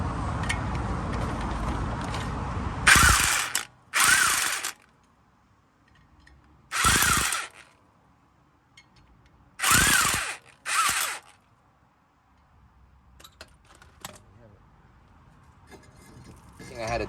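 A power tool threading M8 bolts in to push out the brake disc on a Lexus NX200t, five loud whirring bursts of a second or so each, separated by quiet gaps with faint background hum.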